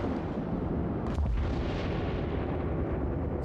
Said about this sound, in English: Secondary batteries on the South Carolina opening up on our face.